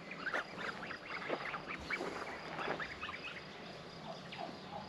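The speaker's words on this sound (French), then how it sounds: "Donc là vous pouvez voir les oies, elles sont super bien grossies." Geese in a poultry yard honk and cackle in a busy overlapping chorus, with other fowl calling among them. The calls are fairly faint and sit over a steady outdoor background.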